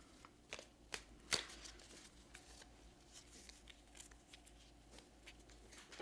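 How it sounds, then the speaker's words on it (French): A single card drawn from a deck during a tabletop board game, with soft card-handling rustles and a few brief sharp snaps amid quiet background noise. "Et là, je vais piocher une carte."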